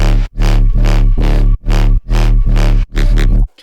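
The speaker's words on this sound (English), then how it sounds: "And then our bass group sounds like this." The bass group from the track plays alone as a loud, thick, buzzing low synth bass in sustained chopped notes with brief gaps between them, ending abruptly.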